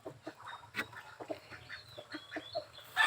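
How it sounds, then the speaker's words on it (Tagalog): Ducks quacking nearby in a busy cluster of short, nasal calls, with overlapping quacks continuing throughout at moderate to soft volume. "Mga pato guys."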